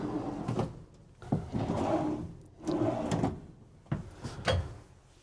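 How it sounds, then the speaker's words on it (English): A few soft slides and thumps of a soft-closing drawer easing shut in a 2024 Newmar Dutch Star 4325 motorhome, repeated several times at close range with quiet room noise between. "Gonna have some soft closing drawers,"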